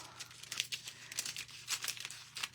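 Thin craft foil crinkles and rustles in short irregular bursts while it is cut off for decorating ankle boots, quiet and close with no talking.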